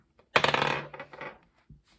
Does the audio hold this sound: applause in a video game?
no